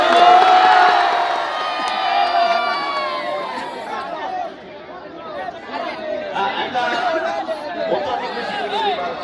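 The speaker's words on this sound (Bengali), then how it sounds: "একবার কাজী শাহ তরুণ সংঘের জন্য জোরে হাততালি সবাই" A large outdoor crowd at a local club's football final cheers, whoops and chatters loudly and steadily, with excited shouting carrying throughout and no clear clapping standing out.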